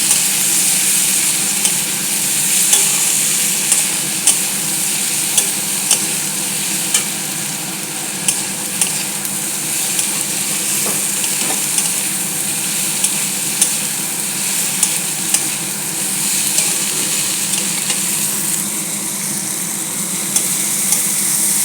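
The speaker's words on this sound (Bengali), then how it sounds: "হলুদ দিয়ে সামান্য একটু নাড়াচাড়া করব" Vegetables with turmeric frying in a pan for a dal dish, giving a loud, continuous close sizzle with light intermittent ticks and scrapes of stirring and no voices.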